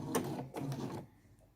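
Domestic sewing machine zigzag stitching close to an elastic edge on a bike jersey, two short quiet whirring bursts of stitching followed by a brief fade.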